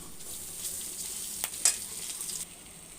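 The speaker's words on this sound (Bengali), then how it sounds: "এখন পেঁয়াজ আর রসুনগুলি দিয়ে দিব, একদম ভাজা ভাজা করে তুলে নিব।" Onions and garlic fry in a little oil in a pan with a steady, close sizzle lasting three seconds, broken by a couple of sharp spits and crackles midway.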